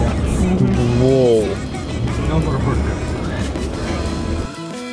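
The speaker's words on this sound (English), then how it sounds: "Right now we're just gonna be driving around." A car driving around town sounds as a steady engine and road rumble from inside the vehicle, with an excited voice whooping briefly over the drone.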